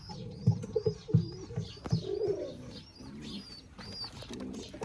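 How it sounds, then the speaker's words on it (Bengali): Pigeons cooing in a loft with baby birds, low repeated coos close by, mixed with faint chirps and some rustling. "আর এখানে হয়েছে আমাদের ঘুঘু পাখি আর কবুতরের বাচ্চাটা আছে।"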